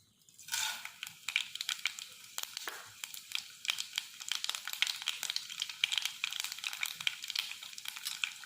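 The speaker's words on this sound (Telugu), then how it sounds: "ఇలా ఆయిల్ వేడయ్యాక తాలింపు గింజలు వేసుకుందాం." Tempering seeds dropped into hot oil set off a dense run of sharp crackles and pops that starts after a brief quiet moment and keeps snapping unevenly.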